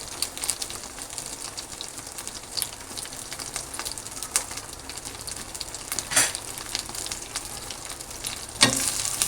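Garlic cooking with salt and turmeric for pickle sizzles steadily in the pan, broken by frequent scraping stirs and a louder clatter near the end.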